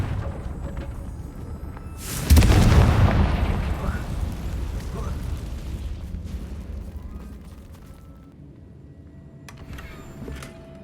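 A Confringo blasting spell from Hogwarts Legacy goes off at a bridge: a single loud, deep explosive boom with a broad crackling burst that trails into a long fading rumble, with some talk in the background.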